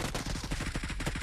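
Rapid automatic gunfire in PUBG Mobile, a fast regular string of punchy shots packed closely together in one short burst, near and steady.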